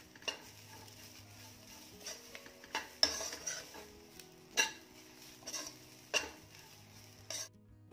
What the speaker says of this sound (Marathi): आणि ही देखील परतून घ्यायची आहे.